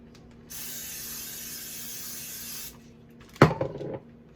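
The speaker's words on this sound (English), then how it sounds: "Coat the bottom with olive oil spray." An olive oil cooking spray can hisses steadily for about two seconds into an air fryer pan, then a clattering metallic knock follows.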